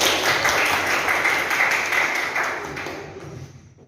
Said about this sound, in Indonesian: tepuk tangan begitu semua